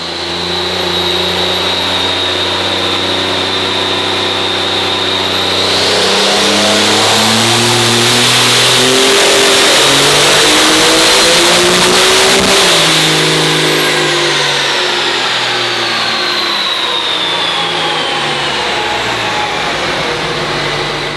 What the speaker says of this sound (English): Truck on the dyno here